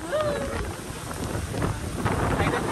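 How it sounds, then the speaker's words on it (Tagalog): Heavy rain pours steadily while gusts of wind buffet the microphone, a dense continuous hiss with low rumbling underneath. "Ang lakas sa ulan!"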